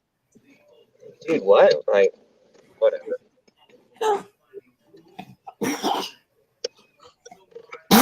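Several sharp bursts of sneezing and coughing mixed with short spoken remarks at a bass fishing event, the loudest explosive burst coming near the middle.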